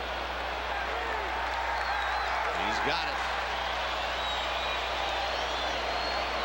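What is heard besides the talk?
baseball stadium crowd reacting to a fly ball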